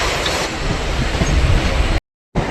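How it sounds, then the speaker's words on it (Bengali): A Sealdah–Barrackpore local train gathers speed, a loud, steady rolling rumble with wind buffeting that cuts out briefly near the end before resuming. "ট্রেন আস্তে আস্তে আমাদের স্পিড নিচ্ছে।"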